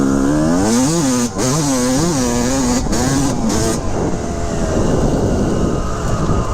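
A 1988 Honda CR250R two-stroke dirt bike engine revs hard and loud, rising and falling in repeated sharp throttle blips before settling into a rough, steady drone, close by with no talking.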